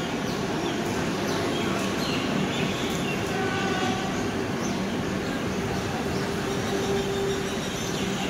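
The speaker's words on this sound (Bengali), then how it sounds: "বন্দে ভারত এক্সপ্রেস" A Vande Bharat Express train, the Guwahati–NJP service, rumbles past in a loud, continuous rush of wheels and rail noise with steady clatter and no clear breaks.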